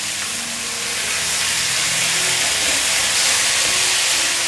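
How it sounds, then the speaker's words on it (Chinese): Shredded bamboo shoots stir-fry in a hot wok with ginger, giving a steady, loud hiss and sizzle that swells slightly as the food is tossed, with no voice. "现在放入笋丝，快速翻炒。"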